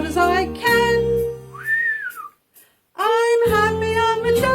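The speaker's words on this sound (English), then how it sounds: "Then I'll whistle as loud as I can." Loud, tonal whistling with a bright melody dominates, broken by a short rising whistled note and a brief pause before it resumes.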